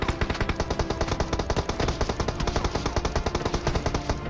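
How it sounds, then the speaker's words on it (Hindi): Rapid automatic gunfire from a PUBG Mobile match, dense repeated shots in a steady burst that stays loud and close throughout with no talking. "लेकिन उसका फायर आ रहा है मेरे पे"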